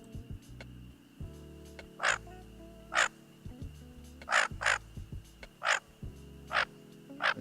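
Recorded call of a male Bufflehead duck: a series of short, harsh, crow-like calls repeating at irregular intervals over a low steady hum, fairly close and clear, with no talking.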